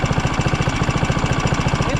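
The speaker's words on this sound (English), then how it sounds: "Look at that turbo spinning in there." An engine with a turbo runs steadily close by, a loud, fast, regular rhythmic chugging with a constant whirring hiss over it and no talk.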